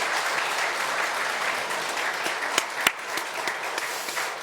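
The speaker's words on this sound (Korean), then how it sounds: "우리 박수로 축하해 주시기 바랍니다." A church congregation applauds steadily for several seconds during an infant baptism at a Sunday service, a dense wash of clapping with a few sharper individual claps standing out near the end.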